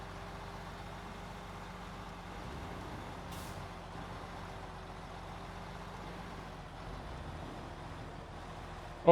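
Heavy truck idling in the video game Snowrunner, a steady low engine drone with a short sharp air-brake hiss near the start, continuing alone without talk.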